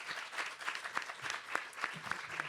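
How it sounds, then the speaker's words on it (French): A studio audience applauds throughout, a steady patter of many hands clapping at moderate loudness with sharper individual claps standing out, no voices over it. "On peut l'applaudir très fort s'il vous plaît"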